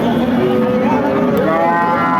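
A cow at the Chougachha cattle market in Jessore lets out a long, loud moo that holds steady for about two seconds, set against a constant hubbub of market noise.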